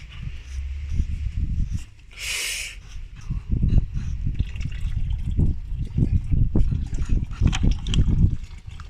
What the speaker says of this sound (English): Put her up there, just let her drain completely.